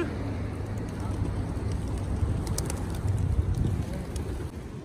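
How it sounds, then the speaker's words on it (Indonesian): Pigeons at Masjidil Haram in Mecca coo and flutter steadily while being fed, a dense flock murmuring close by over a busy outdoor crowd hum, with voices talking throughout. "keseruan kita ngasih makan burung merpati."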